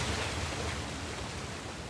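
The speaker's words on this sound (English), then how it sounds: "Another waterfall." Waterfall in the video game Uncharted: The Lost Legacy, a steady broadband rush of falling water holding even and fairly loud throughout, with no talk over it.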